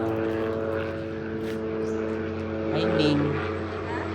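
A propeller airplane drones steadily overhead while coming in to land, a continuous engine hum that swells slightly near the end, with people talking over it.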